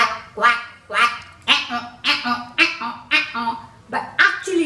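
A voice imitates frogs croaking beside ponds and lakes, making about seven rhythmic, duck-like quacking calls in an even, close, fairly loud series.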